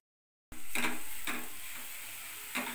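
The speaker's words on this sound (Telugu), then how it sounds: "we are frying in the ghee" After a moment of silence, one cup of grated bottle gourd fries in ghee for a sweet halwa, a sudden steady sizzle that fades slowly, broken by a few soft spoon scrapes, with no voices.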